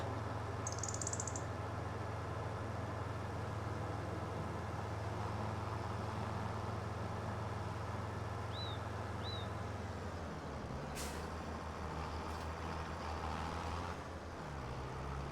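A tractor engine in the Farming Simulator 25 farming game holds a steady low idling drone throughout, with the tone shifting near the end as the machine settles, and no talk over it.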